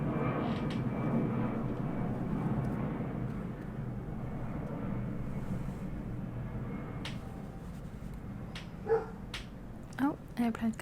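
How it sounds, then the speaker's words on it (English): A fixed-wing airplane passes overhead at night, a low steady rumbling drone that dips slightly midway, joined near the end by short barks from a dog and brief voices. "Airplane going over, excuse me."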